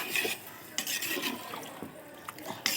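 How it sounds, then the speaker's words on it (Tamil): A spoon stirs chicken biryani in a cooking pot, with soft scraping and a few sharper metallic clinks against the pot's sides, heard close and fairly quiet. "நல்லா கலரி விட்டுப்போம்."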